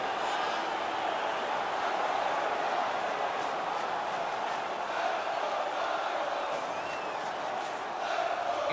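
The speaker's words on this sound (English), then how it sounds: "The home crowd is ecstatic. They're making all kinds of noise." Home arena crowd in the NHL 17 video game cheering and roaring after a playoff fight between Arizona and San Jose, a steady dense wash of crowd noise throughout with no commentary over it.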